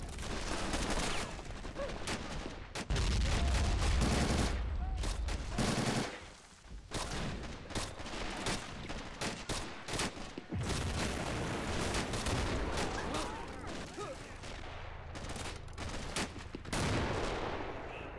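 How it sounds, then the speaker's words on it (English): Continuous battle noise from a Pointe du Hoc assault in a game running the RobZ Realism Mod: rapid bursts of gunfire and heavy explosions booming throughout, dense and loud with no pauses. "Oh, big explosions back here."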